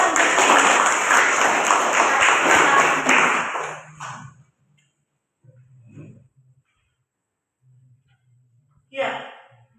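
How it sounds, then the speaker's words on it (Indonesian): A classroom of students claps together for about four seconds, a dense burst of applause that then stops abruptly, leaving near-silence with a few faint knocks and a brief voice near the end. "Tepuk tangan untuk"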